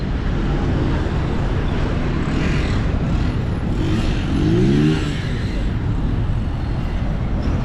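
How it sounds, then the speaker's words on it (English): Busy Nairobi city traffic with cars and motorbikes, including an electric bike, passes in a continuous close roar, with one vehicle revving and accelerating midway. "vehicles moving, motorbike, that is electric bike"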